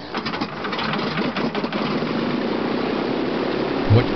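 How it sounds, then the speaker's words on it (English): A jet airliner's engines spool down to forward idle thrust as the aircraft slows after landing, a steady broadband engine roar that continues throughout without any voices. "As the aircraft slows, the brakes are applied and the engines are switched back to forward idle thrust."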